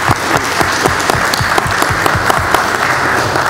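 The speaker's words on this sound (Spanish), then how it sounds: "Un aplauso para ella" An audience at a citizen security committee ceremony applauds a woman being honored, loud, close clapping from a crowd with sharp individual claps standing out over the steady patter.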